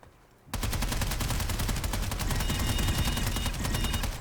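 The NSX Naginata fires a sustained, rapid automatic burst in a video game after a brief quiet start. Evenly spaced shots hammer out loud and close, with no talk over them.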